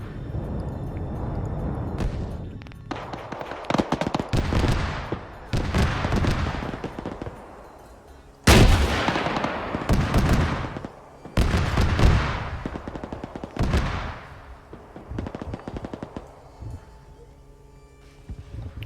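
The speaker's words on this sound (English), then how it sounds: "We're hearing shots coming from northwest." Bursts of in-game gunfire in an Arma 3 armored battle, with loud clustered volleys and sharp broadband cracks recurring over nearly twenty seconds, some close and heavy, others thinner and more distant, with no talking.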